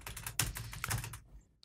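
Rapid clattering keystrokes on a computer keyboard while playing Minecraft, a dense close run of clicks for about a second before stopping abruptly into silence.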